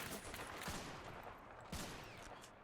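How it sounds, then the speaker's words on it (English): Automatic StG-44 rifle bursts crackle across a World War II battlefield in Men of War: Assault Squad, with dense overlapping gunfire throughout and sharper volleys standing out near the start and around the middle. "STG-44 is being heard firing just all over the area right now"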